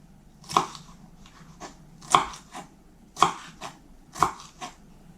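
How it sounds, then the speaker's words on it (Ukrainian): A knife chops bell pepper on a cutting board, four sharp crunchy cuts spaced about a second apart, close and clear with quiet between them. "Перець болгарський спочатку нарізаю на смужки"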